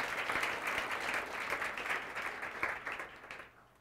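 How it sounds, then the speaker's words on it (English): Audience applause at a talk event, steady clapping from a crowd lasting a few seconds before fading out, heard alone without speech. "please give yourselves a round of applause for that"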